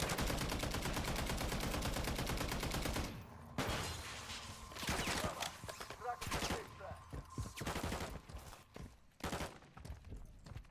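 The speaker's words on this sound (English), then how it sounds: "Shoot the man, Mr. Sentry Gun, please." Automated sentry gun in Modern Warfare Zombies firing rapid bursts at an enemy, a dense stream of loud shots for the first few seconds, then scattered sharper bangs and softer movement noises with a few short gaps.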